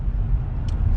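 A Hyundai car with 147 horsepower, switched into sport mode, gives a steady low engine rumble and road drone throughout, with a brief faint higher-pitched blip near the end.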